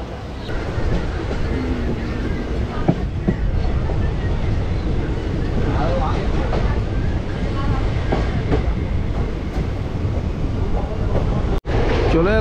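A passenger train slows into Gour Malda station, with a steady loud rumble of wheels and carriages, faint clatter, and a brief sharp knock near the end.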